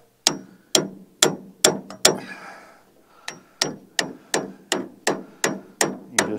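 A hammer taps a bushing into a New Holland 488 haybine with a dozen or so sharp metallic strikes in an even rhythm, close and loud, broken by a short pause about halfway through.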